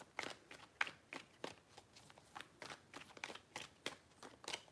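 Tarot cards are shuffled in soft, faint riffling bursts, about a dozen quick papery swishes in a steady rhythm, close but quiet, with no talk.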